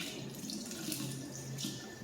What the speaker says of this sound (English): So make sure you run your cold water like we did with the shrimp.